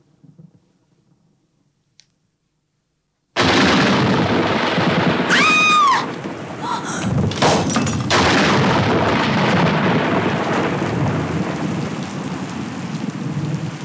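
A violent nighttime thunderstorm breaks in suddenly after near silence: heavy rain roars loud and steady while deep thunder rumbles and sharp cracks hit close by, then the downpour carries on.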